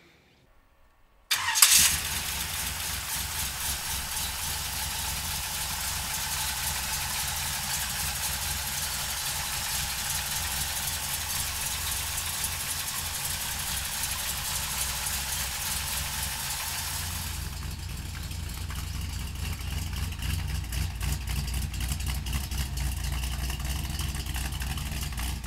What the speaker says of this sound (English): We're gonna let you listen to the engine, give it a couple of quick wraps. It's a Chevy small block.